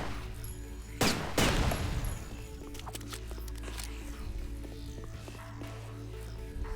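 Gunshots blast at objects in the Dreamcast game Headhunter, two sharp loud reports close together near the start, followed by scattered smaller clicks and impacts over a steady low hum.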